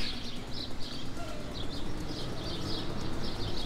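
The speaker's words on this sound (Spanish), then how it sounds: "pajaritos" Small birds chirp in repeated faint, high twitters across a quiet hillside park at Cerro La Luz, Puéllaro, Ecuador, over a steady breezy outdoor hush.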